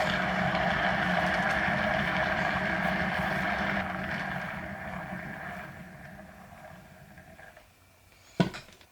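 A steady roaring hiss of a torch played over poured acrylic paint on tiles fades gradually over several seconds and drops away, followed by a brief knock near the end.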